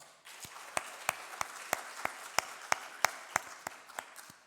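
A church congregation claps together during a Sunday service, starting thin and swelling into steady applause with sharp individual claps standing out, filling a large room.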